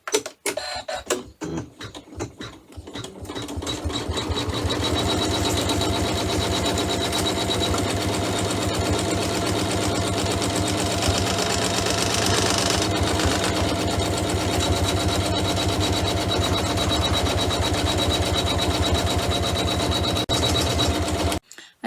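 An embroidery machine stitches the back of a pouch to its front, starting with a few clicks before a loud, continuous, close mechanical whir of rapid stitching runs steadily and then cuts off.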